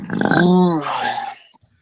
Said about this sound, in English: That sounded like a good beer burp.